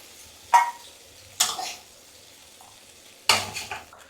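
Fried cauliflower seasoned with coriander leaves is stirred in hot oil and lifted from the pan, with three sharp scraping strikes of a utensil against the pan over quiet, faint sizzling.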